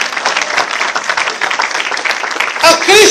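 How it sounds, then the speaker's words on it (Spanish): A church congregation breaks into loud, sustained applause that fills the space with dense, steady clapping from start to finish, and a voice rises briefly near the end. "dale fuerte aplauso si puede"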